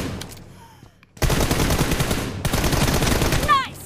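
Sustained automatic gunfire in PUBG Mobile, a quiet lead-in then dense rapid bursts of shots lasting about two and a half seconds, loud and close, with a brief tail at the end.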